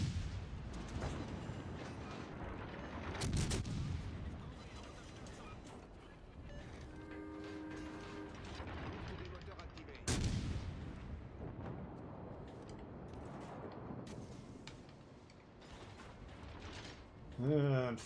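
Warship main guns firing in World of Warships Legends, heavy booming salvos at several points, with a loud blast near the start and another mid-clip, among game sound effects and synthesized voice lines.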